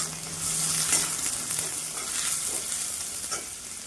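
Chopped onion sizzles in hot mustard oil in a pan, a steady bright frying hiss with occasional stirring scrapes, close and continuous, no voices.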